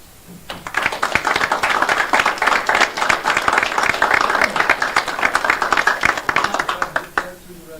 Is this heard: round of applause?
yes